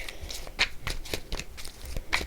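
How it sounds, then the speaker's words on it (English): Tarot cards being shuffled by hand in a rapid series of soft riffling slaps and flicks, close and fairly quiet. "2 more shuffles"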